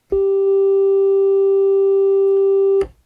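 A Korg Wavestate synthesizer sounding one gated wave sequence that never advances or crossfades: a steady, pure, unchanging held tone that starts and stops abruptly with soft clicks, alone and fairly loud.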